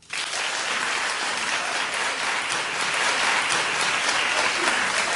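Dense audience clapping during a design competition event, a loud, even wash of many hands that starts abruptly and holds steady for several seconds, with no voices over it.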